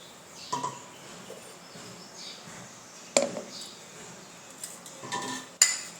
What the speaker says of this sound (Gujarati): તો હવે આપણે એક મિક્સર જાર લઈશું